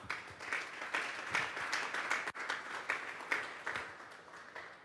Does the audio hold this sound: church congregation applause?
yes